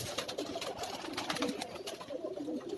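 A Banka pigeon coos on a rooftop in Karachi, its soft, repeated low calls rising and falling close by with light background noise.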